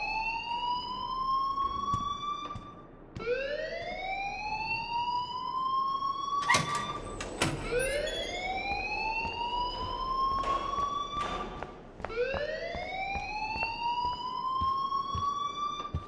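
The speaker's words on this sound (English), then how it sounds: "please turn off that alarm since that's your job" A loud electronic alarm in the video game Life is Strange, rising whooping tones that sweep upward repeatedly in a steady cycle, with a brief harsh burst in the middle, sounding alone and continuous.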